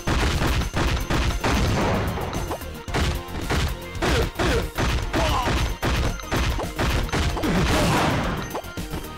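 Gunfire in the PlayStation 1 video game CT Special Forces, a rapid run of loud, close, punchy shots with crashing impacts, repeating in bursts with brief gaps throughout.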